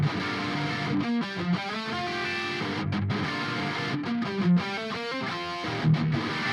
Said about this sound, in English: So the guitar sounds like this.